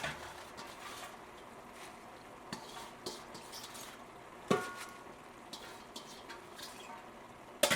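Collard greens cooking down in a skillet, with faint stirring scrapes, soft sizzle and occasional utensil clinks against the pan, close and quiet.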